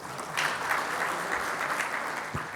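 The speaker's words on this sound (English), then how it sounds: "Round of applause for her as well." Audience applause fills a conference hall, a steady crowd of hands clapping at moderate volume throughout, with no talking over it.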